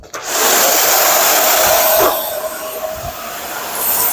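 An old vacuum cleaner roars steadily at close range while cleaning out a two-cylinder John Deere engine, a loud whooshing drone that dips and shifts as the nozzle moves.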